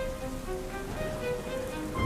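Heavy rain pours in a steady, dense wash of noise, with faint tonal hums running through it and no voices.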